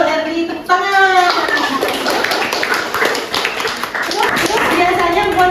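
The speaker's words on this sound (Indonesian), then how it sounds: "Eri, tepuk tangan" Students in a classroom clap their hands together, a busy burst of clapping that continues for several seconds alongside children's voices and chatter in a lively room.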